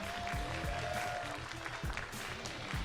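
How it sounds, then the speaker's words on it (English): Applause from an audience at the TGR GT Cup Asia Finals 2024 esports racing event, a dense continuous patter of clapping that holds steady for about three seconds. "Big round of applause for Cambodia and Vietnam representatives for being here as well."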